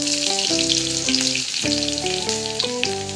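Garlic paste sizzling in hot oil with cumin seeds for fried rice, a steady loud crackle with no talking, under a plain repeating note pattern of background music.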